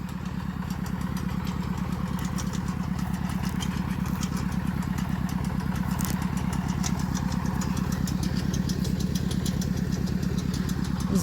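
A tractor digging potatoes in a field runs steadily at close range, its low, rhythmic, chugging throb holding an even pace with no voices.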